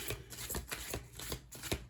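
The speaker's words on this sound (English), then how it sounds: "Sorry for the prolonged shuffling" Tarot cards being shuffled by hand, a dense run of rapid riffling flicks and soft slaps close up, steady and continuous with no voices.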